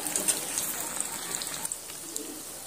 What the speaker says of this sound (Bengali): একদম সুন্দর করে লাল লাল করে ভেজে নেব